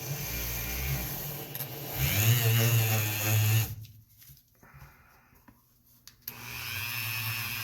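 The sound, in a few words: Dremel tool polishing firearm component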